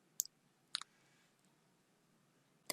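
A computer keyboard being typed on as a Linux terminal command is entered, giving a few sharp, sparse clicks with long quiet gaps, close and crisp in an otherwise silent room.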